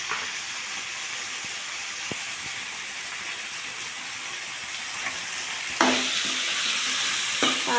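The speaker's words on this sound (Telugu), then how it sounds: "వంకాయలు కూడా మెత్తగా ఫ్రై అయినాయి" Eggplant pieces sizzle steadily in a hot pan, a continuous frying hiss with occasional clicks of stirring, growing louder and crackling more sharply near the end.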